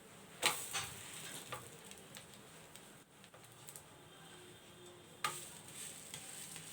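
Bread omelette frying in a pan, with a steady sizzle underneath and a couple of sharp scraping knocks as it is turned over, close by.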